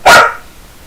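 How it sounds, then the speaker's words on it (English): A single loud, close dog bark, one sharp bark that fades quickly into quiet. "Sorry, my dog's barking."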